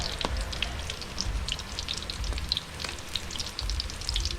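Crab frying in hot oil, a steady crackling sizzle with scattered sharp pops and spits, moderately loud and continuous with no talking.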